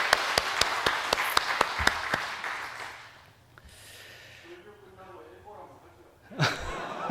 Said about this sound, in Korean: 하나님께 한 번 더 영광의 박수 올려드리겠습니다